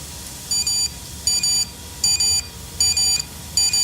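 A phone's email notification alert beeps in a steady repeating pattern, each burst made of two quick high, shrill pips, cycling five times at close range with no talking.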